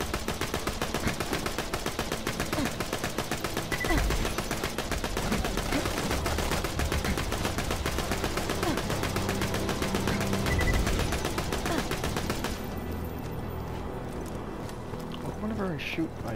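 Rapid automatic weapon fire in the shooter game Borderlands 2, a dense rattling stream of shots with game effects layered in, cutting off near the end to quieter ambience.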